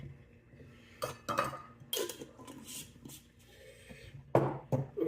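A metal teaspoon clinks and taps against containers while wine tannin is measured out for a lemon lime wine, giving a few scattered, fairly close clatters with no talking.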